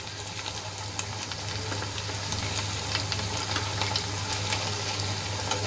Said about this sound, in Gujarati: બે મિનિટ જેટલો સમય થઈ ગયો છે તો આપણે નાસ્તાને પલટાવી લઈશું